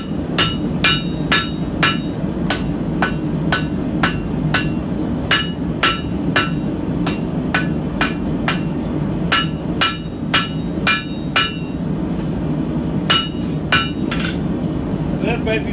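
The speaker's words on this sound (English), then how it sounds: "step one in forging a normal knife is just getting the tip down" Steady, ringing hammer blows on an anvil while a knife blade is forged, loud and evenly spaced, each strike with a bright metallic clink, pausing briefly before resuming.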